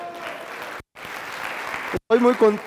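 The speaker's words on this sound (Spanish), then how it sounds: "un fuerte aplauso para todos ustedes" An audience at a seated training event gives a short burst of applause broken by two brief dropouts, with a voice speaking over the final moments.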